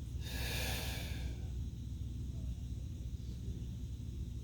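A single audible inhale during a core exercise for sciatica relief, a close breathy rush lasting about a second, followed by quiet low room rumble.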